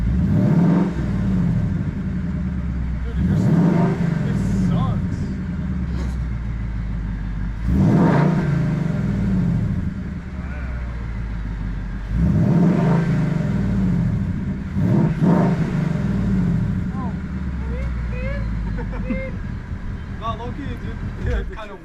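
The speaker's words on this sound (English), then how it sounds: "Your engine actually sounds healthier than mine." A rebuilt 800 hp Toyota Supra engine idling and revving, with about five strong rising-and-falling revs spaced a few seconds apart over a steady rumble, close by, while people talk in the background.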